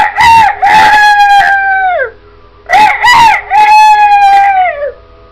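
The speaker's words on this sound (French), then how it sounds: "Le coq arrive." A farm rooster crows twice, loud and close, each long cock-a-doodle-doo ending in a falling drawn-out note, with a short quiet gap between the two calls.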